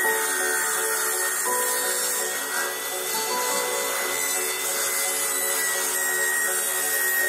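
Power tool cutting a 4-inch strip, a steady, loud high-pitched whine with a continuous grinding buzz, running unbroken for several seconds without talk.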